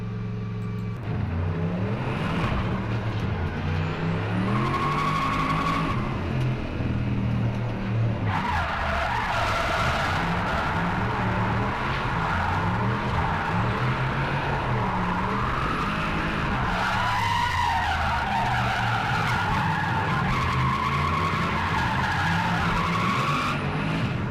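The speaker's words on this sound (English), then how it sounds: "A little bit of a clutch kick to get it spinning." A drift car spins its tyres and slides around a hairpin at Teesside, with continuous loud tyre squeal and screeching over a revving engine that rises and falls through the whole run.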